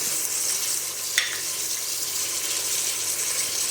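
Mutton fries with ginger garlic paste in a pan, giving a steady, dense sizzle that runs continuously and evenly, with one brief clink partway through.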